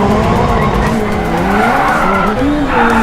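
A Hyundai RN24 electric rally car with an IONIQ 5N 650 PS powertrain drifts, its tires skidding and squealing loudly and continuously up close, with a rising and falling whine.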